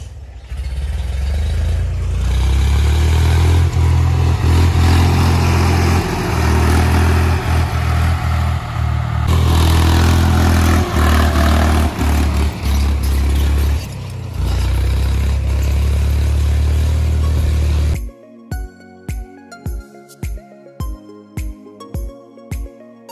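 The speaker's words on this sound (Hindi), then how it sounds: "देखो ट्रैक्टर कैसे मोड़ा जाता है पहाड़ों में, बहुत टफ होता है पहाड़ों में खेतों की बिजाई करना, ट्रैक्टर चलाना।" A tractor engine works a terraced hillside field, a loud continuous diesel rumble with clattering for most of the stretch, then cutting to a run of sharp rhythmic knocks near the end.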